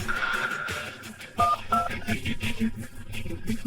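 A couple of quick phone keypad beeps sound in sequence while people talk over them.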